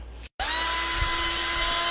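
A power drill runs steadily at close range, giving a loud, continuous high-pitched whine after a brief stop and restart.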